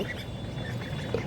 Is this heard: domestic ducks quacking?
yes